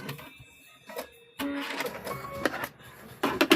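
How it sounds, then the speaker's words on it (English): A sewing machine stitches across a quilted mug rug fabric piece, giving a close mechanical whirring rattle with uneven bursts after a short quieter pause. "we're just going to stitch across here again"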